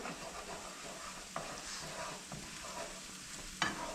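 Quiet sizzling of ingredients frying in a pan for locro while someone stirs, with a few soft utensil clicks and one sharper knock near the end, heard without speech.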